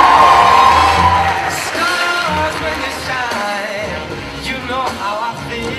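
A school crowd at a 2023 homecoming event cheers the homecoming court, a loud, sustained roar of whoops, yells and shouting voices with clapping underneath, rising and falling over several seconds.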